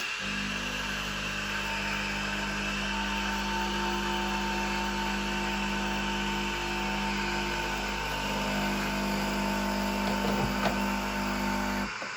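A Breville Oracle BES980BKS espresso machine flushes water, a steady, loud mechanical pump hum with a constant tone that runs unbroken for several seconds.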